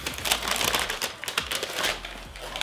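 Paper packing crinkles and rustles while a pair of never-worn custom Nike ID shoes is unboxed, a close, busy run of crackling bursts with brief pauses and no talking.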